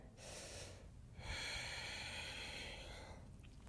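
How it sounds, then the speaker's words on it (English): Two deep breaths during a yoga session: a short airy inhale, then a longer, louder breath that swells and fades, heard close and alone. "Take a breath in."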